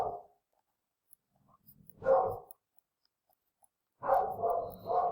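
Dogs bark indoors in short separate bursts, one at the start, another near the middle and a longer run of barks at the end, fairly close and moderately loud with quiet gaps between.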